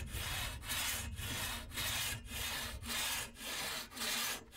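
A long two-man pit saw cuts through wood in steady back-and-forth strokes, about eight even rasping pulls with brief pauses at each turn.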